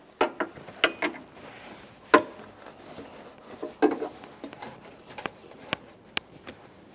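A 13mm wrench working a brake line fitting on the master cylinder of a 2004-2008 Ford F-150 5.4L V8, heard as sparse sharp metallic clicks and ratcheting ticks against a quiet background.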